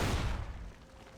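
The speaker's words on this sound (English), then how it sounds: "Bigger explosion," Frag mines go off in the video game Fallout: New Vegas: a single loud, close blast that opens with a sharp burst and then fades away quickly.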